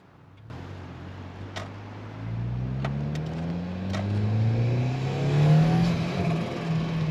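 A 1995 Ford Cosworth RS rally car being driven on a road, its engine note rising smoothly from quiet to a louder, higher pull under acceleration, with a few faint clicks inside the cabin.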